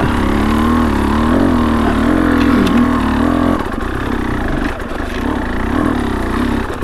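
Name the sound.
car driving in muddy terrain, engine revving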